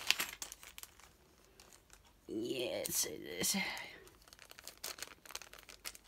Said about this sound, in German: Ich arbeite an den kleinen Tüten, die aufzukriegen.